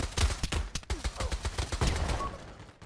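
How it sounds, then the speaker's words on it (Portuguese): AK-47 rifle fire in Pavlov VR, the VR shooter game, crackles as a rapid burst of many close, sharp shots in a steady rhythm, with no talking over it. "Eu vou dar um tiro na boca dele aí pra poder ficar esperto"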